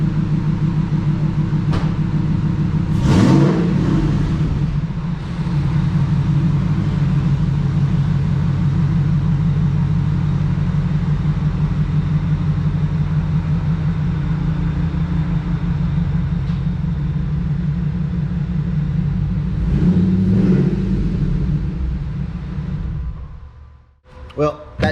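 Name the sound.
truck engine running and revving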